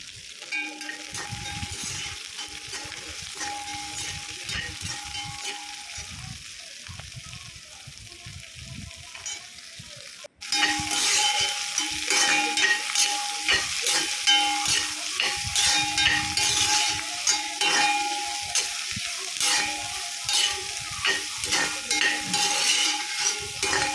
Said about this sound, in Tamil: நல்லா ஒரு 10 மினிட்ஸுக்கு நம்ம இந்த வெங்காயத்தை நல்லா வதக்கிடணும்